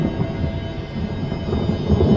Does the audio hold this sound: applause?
no